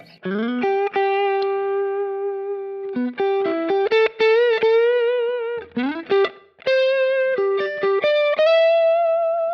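Electric guitar through a Kemper Profiler with drive turned down to light overdrive plays sustained melodic notes and short phrases with a touch of echo, fairly loud and alone without any voices.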